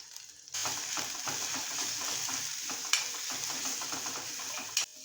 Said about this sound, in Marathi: छान आधी आलं लसूण परतून घ्यायचं